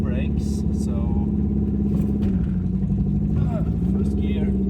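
An old barn-find car with a cold gearbox and cold oil, no brakes, drives in first gear, its engine a steady mid-pitched drone with slight pitch wobble, close to the microphone throughout.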